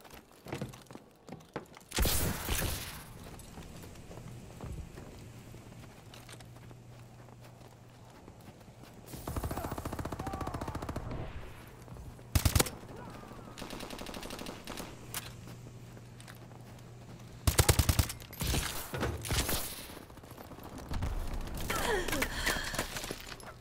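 Automatic gunfire in a Call of Duty: Advanced Warfare deathmatch comes in several sharp bursts of rapid shots separated by quieter stretches, some long loud volleys and a few short clipped rattles over low background hum.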